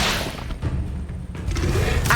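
An Incendio fire spell cast in Hogwarts Legacy lands as a soft whooshing burst with a dull thud, followed by rumbling game ambience and another rush of sound near the end.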